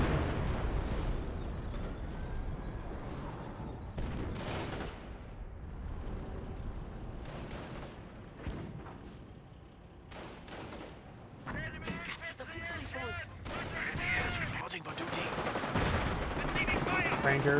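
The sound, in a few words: artillery fire in video game Company of Heroes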